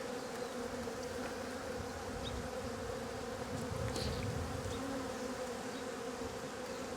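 Honeybees swarm around an open beehive during hive work, giving a steady, dense drone of buzzing wings that stays close and even throughout, with no talking.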